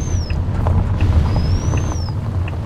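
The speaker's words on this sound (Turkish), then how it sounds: "Dehşet bir turbo sesi var arabanın ama motor sesi sanki pek böyle optimize değil gibi arabanın." A Ford Cargo 3238 truck climbing a steep mountain road gives off a rising and falling high turbo whistle over a loud, steady low engine drone.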